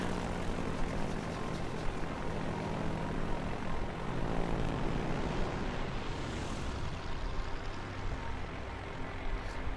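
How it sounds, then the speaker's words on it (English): Torpedo bomber squadrons launch from an aircraft carrier in World of Warships Legends, a steady loud propeller-engine drone that holds evenly throughout with no pause. "We're going to send up our torpedo bombers first."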